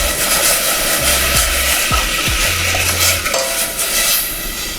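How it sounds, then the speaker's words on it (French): Green tea powder and sugar get stirred into water heating in a pot, a few soft spoon clinks and scrapes sitting under a constant loud rushing background roar. "Vous remuez un petit peu."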